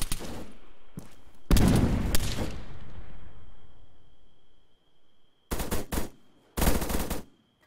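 Suppressive gunfire in Arma 3 Altis Life comes as loud bursts of rapid automatic shots. Two early volleys ring out with a decaying echo, then after a quieter pause two more short bursts close by.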